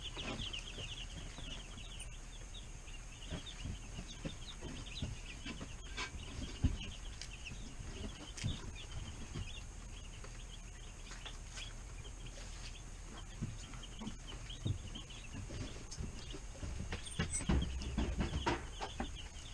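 Young Cornish Cross meat chickens in a brooder on their first day, a steady low chorus of soft clucks and peeps mixed with faint rustling, continuous throughout.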